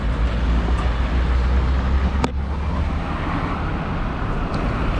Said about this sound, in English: This truck's making a heck of a noise